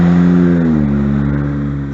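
A car engine revs in winter in Canada, a loud, close, steady harmonic drone whose pitch slides down partway through and then holds.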